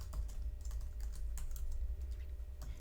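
Steady run of computer keyboard typing while writing HTML script code for a Bootstrap and jQuery website, close and clear with quick irregular key clicks throughout and no talk.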